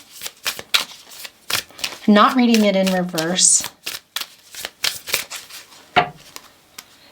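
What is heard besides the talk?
shuffling oracle cards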